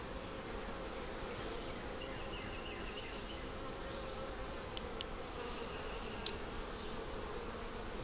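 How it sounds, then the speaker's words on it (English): Honeybees drone steadily from an opened hive during an inspection, a continuous close buzz with a few brief clicks and knocks near the end. "It's still got a good amount of bees in it."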